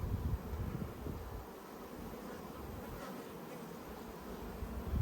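Honeybees buzz at an open hive in an Australian apiary, a faint, continuous, close swarm hum with fluctuating wing drones and no voices.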